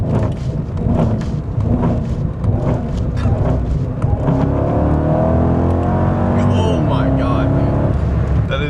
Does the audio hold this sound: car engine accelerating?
yes